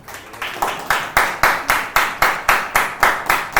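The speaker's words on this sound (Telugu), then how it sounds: "చప్పట్లు కొట్టండి" A church congregation at a Sunday service claps together in a steady rhythm, about eleven sharp, even claps in quick succession, loud and close.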